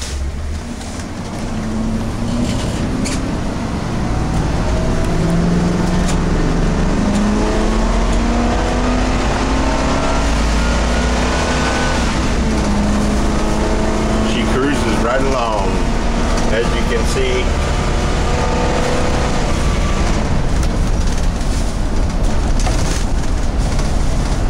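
A 1996 Winnebago Vectra 34WQ motorhome pulls away and accelerates, its engine droning loudly and rising steadily in pitch through gear changes, with road and cabin noise throughout.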